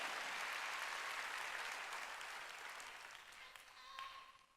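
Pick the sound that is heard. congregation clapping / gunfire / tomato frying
congregation clapping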